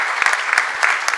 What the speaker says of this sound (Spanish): delante de un alcalde como Coco Yunes, así que un aplauso también para nuestro alcalde, por favor